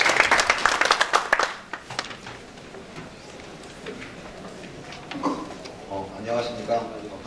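Audience applause at a public forum on finance policy, a burst of clapping from many hands at the start that fades quickly, followed by quieter room sound and a voice speaking.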